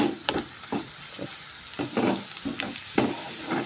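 Garlic frying in a pan for a garlic lady finger (okra) dish, giving soft intermittent sizzles and crackles with brief stirring scrapes, close and moderately quiet, without talk.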